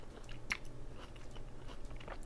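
Juicy fresh fruit such as pineapple, melon, strawberries or grapes bitten into up close, one crisp wet bite followed by soft, moist chewing and squelching, quiet and intimate.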